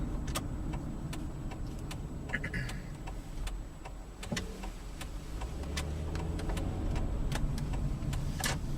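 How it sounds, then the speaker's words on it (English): Inside a 2009 Kia Sedona minivan rolling at 25 mph through a neighborhood, a quiet low road hum runs throughout, broken by regular soft ticking clicks. "I'm driving at 25 miles per hour right now through our neighborhood. It's not that loud at all."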